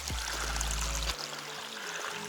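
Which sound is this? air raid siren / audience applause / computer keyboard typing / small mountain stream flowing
small mountain stream flowing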